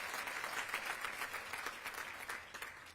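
Applause from the audience at a mayor's community breakfast, a dense steady wash of clapping heard from some distance, fairly faint and lasting the whole time.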